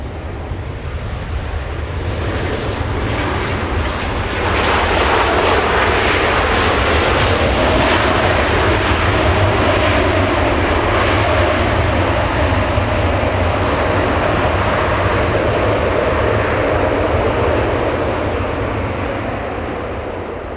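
Qatar airliner arriving at Los Angeles International Airport, a loud steady jet engine roar heard from outside that swells toward the middle and holds across the whole stretch before easing slightly at the end.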